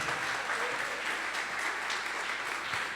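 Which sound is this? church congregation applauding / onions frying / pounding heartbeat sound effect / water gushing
church congregation applauding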